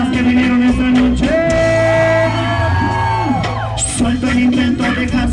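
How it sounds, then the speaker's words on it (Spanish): A crowd at a live rap concert yells and whoops over loud music with sustained tones, the cheering dense and continuous throughout. "Quiero oír un grito de las guerreras que vinieron esa noche."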